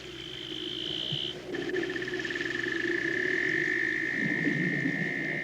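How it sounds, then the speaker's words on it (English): Weddell-type seal calls beneath Antarctic sea ice: long sustained whistling tones and a pulsed trill ring out alongside low droning calls, distant and echoing, with no speech. "The men hear the seals' distant voices, and in the layered caverns, the heaving and cracking of ice."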